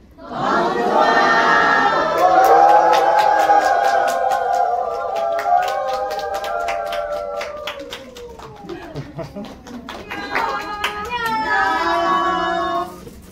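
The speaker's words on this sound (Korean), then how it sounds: "여러분 크게 환호 부탁드릴게요" A cinema audience at a film premiere Q&A cheers and shouts loudly and continuously, then breaks into scattered clapping that fades, with a brief burst of cheering again near the end.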